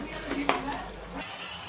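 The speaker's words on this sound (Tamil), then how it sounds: "இன்னும் கூட தக்காளி நல்லா வதங்கணும்." Onions and tomatoes sautéing in oil for a fish kuzhambu, a brief close stir with a spoon scraping and tapping the pan over a light sizzle.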